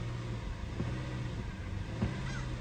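A Lexus LS430 engine runs close by with a steady low hum and only a slight lift in revs, with two brief knocks partway through.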